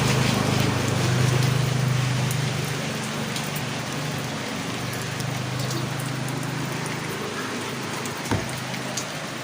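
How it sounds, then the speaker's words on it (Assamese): A light, fine drizzle falls on a hot day, giving a soft, steady hiss of small raindrops close by, with an occasional sharper drip near the end and no one speaking. "পিনপিনীয়া হয়, কিনকিনীয়া বৰষুণ দি আছে,"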